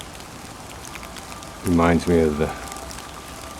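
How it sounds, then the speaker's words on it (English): Steady rain hiss falls across the open ruins of the Roman Forum in Rome, a continuous even wash under a brief stretch of someone talking. "It's kind of fun just sitting here in the rain in the forum"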